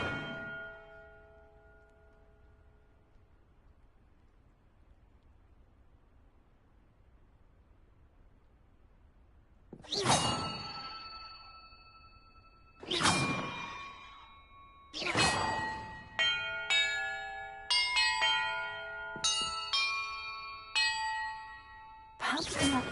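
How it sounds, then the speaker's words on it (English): Bells in a church within the video game Hogwarts Legacy ring out in a sequence of bright, sustained tones, a fading chime first, then separate strikes building into a faster series of overlapping rings, close and clear, with no voices. "Perhaps the map contains clues about the order I'm supposed to ring the bells in."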